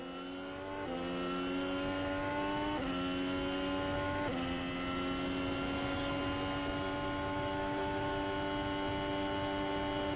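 A Formula 1 car on a warm-up lap at the 2023 Las Vegas Grand Prix qualifying holds a high, buzzing engine whine. Its pitch climbs and drops several times with gear changes, loud and steady throughout.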